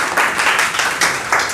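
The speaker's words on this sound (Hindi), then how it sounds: "सबसे पहले आप सब लोग अपने लिए जोरदार तालियां बजाइए" Students applaud loudly at a computer institute gathering, a dense, close burst of clapping that swells in uneven waves over a short stretch, with no talking.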